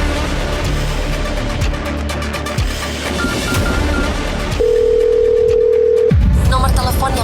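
A continuous tone hums beneath background noise, then a louder steady dial tone sounds for about two seconds before cutting off, followed by brief keypress-like blips.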